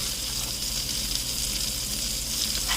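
Salmon pan-searing in brown butter gives a dense, steady sizzle and crackle close by, unbroken for nearly three seconds with no speech.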